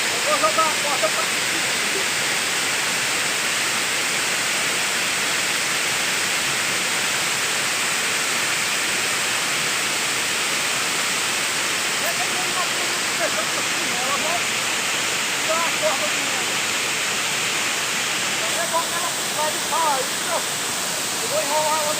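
Roaring broadband rush of a large waterfall, the Cambuco falls in Jussaral, steady and loud throughout, with faint voices partly masked beneath the constant water noise.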